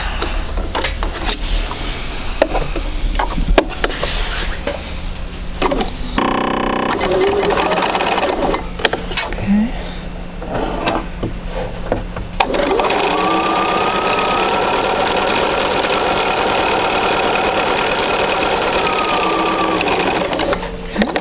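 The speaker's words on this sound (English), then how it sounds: "we're just going to go ahead and sew that at 1/4 inch" A sewing machine stitches a quarter-inch seam in quilt fabric, running loud and close in a steady whirring drone. Short stops and restarts come early on, then a long continuous run follows.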